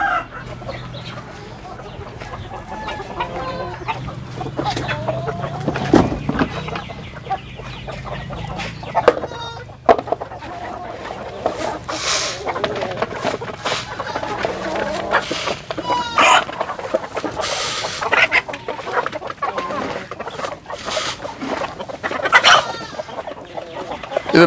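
Farm chickens cluck steadily while pecking at feed on an integrated farm, a busy mix of clucks with an occasional crow rising above ongoing background noise.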